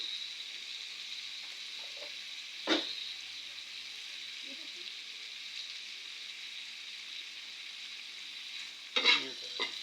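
Food frying in a pan with salt added, a steady faint hiss and sizzle throughout, with two brief louder scrapes or clatters of stirring near the start and end.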